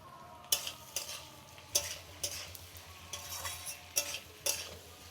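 Potatoes and onions frying in a pan with ginger garlic paste: a steady sizzle under regular stirring scrapes and spoon clinks, close up, with no talk.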